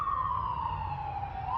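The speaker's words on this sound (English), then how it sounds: "there's sirens going off. There's a hospital right" Emergency vehicle sirens wail steadily and loudly near a hospital, one tone sweeping slowly down and back up over a low traffic rumble, with no talking.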